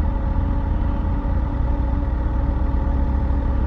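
A Volkswagen Beetle engine idling close by with a steady, low rumbling drone and no other sounds.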